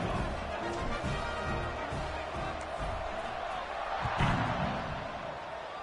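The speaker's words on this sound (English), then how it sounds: "this crowd is buzzing after that last score" A stadium crowd in College Football 26 keeps up a steady, fairly faint roar after a touchdown, with a few thumps and a brief swell of cheering near the end.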